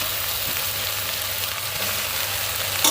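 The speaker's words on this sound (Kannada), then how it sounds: "ಚೆನ್ನಾಗಿ ನಾನು ಟೊಮೊಟೊ ಹಾಕ್ತಾ ಇದ್ದೀನಿ" Bitter gourd stir-fry with tomatoes frying in a pan gives a continuous dense sizzle, loud and close, with faint stirring scrapes and a small clink at the end, no voices.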